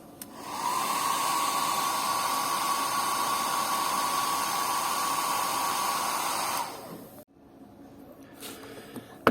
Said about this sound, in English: I'm using my hair dryer for the